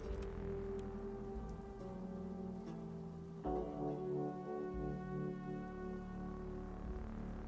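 Steady rain falls at a train stop in the video game Traveling at Night, a dense, even hiss throughout, with soft sustained musical tones and a low rumble beneath and no talking.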